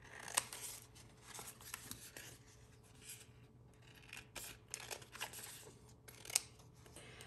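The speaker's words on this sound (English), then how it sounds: "We're going to cut these into separate pieces since these are using the same color for two different projects." Scissors snip through a sheet of Cricut vinyl to separate it into pieces, a quiet series of short, irregular cuts and rustles close by.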